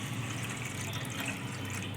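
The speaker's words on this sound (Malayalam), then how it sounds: "ഒരു പാൻ അടുപ്പിൽ വെച്ചിട്ട് നമുക്ക് നാളികേരത്തിൻ്റെ പാല് ഇതിലേക്ക് ഒഴിക്കണം." Coconut milk pours into a pan on the stove in a continuous soft liquid rush, close and even, with no talk.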